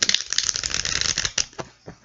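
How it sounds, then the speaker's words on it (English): Tarot cards shuffled by hand, a rapid riffling flutter of sharp clicks that thins into a few separate taps near the end, close and clear with no voices. "please feel free to skip this part if you do not want to watch me shuffle"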